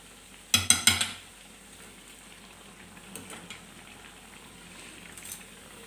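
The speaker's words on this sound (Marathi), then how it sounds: "ही बाजू मी व्यवस्थित तळून घेतली मी त्याला परत एकदा पलटी मारते" Bread pakoda deep-frying in oil being flipped over: a quick burst of four sharp clattering knocks, then a soft, low bubbling fry with faint taps.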